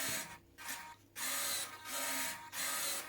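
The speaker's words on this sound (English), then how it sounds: "Next are the ailerons. They are also running. And the flaps." The wing servos of a Harrier model, for the ailerons and flaps, whir mechanically in repeated runs with short quiet gaps between them, close and steady with no voices.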